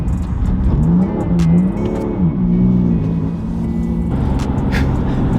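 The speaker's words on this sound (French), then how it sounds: "je prends de la vitesse, mais ouais, super vite avec la voiture" BMW car accelerating hard at high speed while drifting, engine note climbing and falling in a loud continuous rev with tonal whine, close and steady throughout with no talk.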